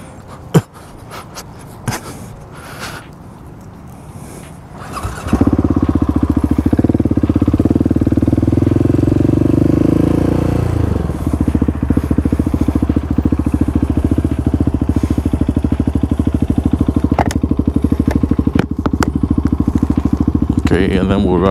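A Yamaha MT10 motorcycle rumbles close by, quiet clicks and handling noise giving way after about five seconds to a loud, steady engine drone that rises and falls in pitch as it rides off, continuing to the end.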